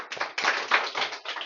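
Students in a sixth-grade classroom clap briefly, a short burst of several uneven hand claps heard close and fairly quiet, with no one speaking.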